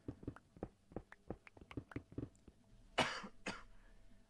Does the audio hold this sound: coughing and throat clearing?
yes